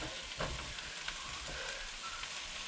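Pork sausages crammed into a crowded pan sizzle and fry steadily in a motorhome kitchen, a continuous close crackle with occasional stirring scrapes and no talking.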